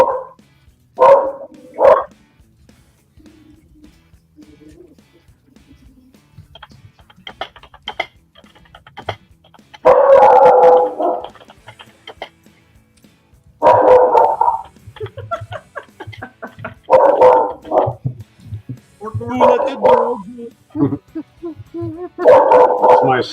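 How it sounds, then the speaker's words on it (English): A pet dog barks in loud, scattered bursts, some drawn out like howls, separated by quieter stretches with faint ticking and a person speaking in between. "That's my stupid dog."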